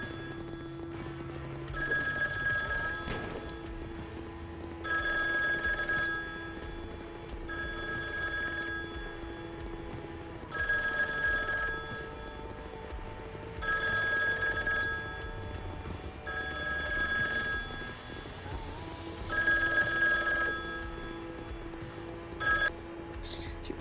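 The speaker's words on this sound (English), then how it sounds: "Anyone who actually has a mobile phone that sounds like this" An old-style telephone bell used as a mobile phone ringtone rings in repeated bursts at regular intervals, loud and close, over a constant low hum.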